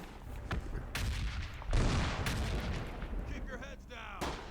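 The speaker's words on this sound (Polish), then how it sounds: "Poszły granaty ręczne." Hand grenades exploding in the Close Combat WWII strategy game, a run of heavy booms and crackling blasts mixed with gunfire and whistling effects at fairly close range.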